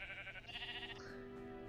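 A brown sheep bleating in Minecraft, in a snowy landscape, one faint drawn-out bleat heard alone.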